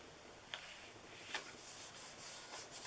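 Stampin' Seal Plus heavy-duty adhesive runner rubbed along a paper edge, a soft dry scraping with a few brief brighter strokes, close and quiet with no talking.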